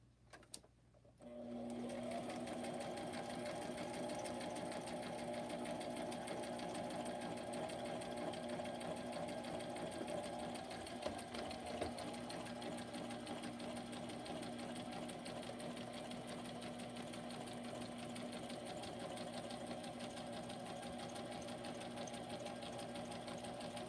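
A sewing machine starts up after a moment and keeps stitching steadily, a close, continuous mechanical whir with fast rhythmic ticking that runs almost without a break.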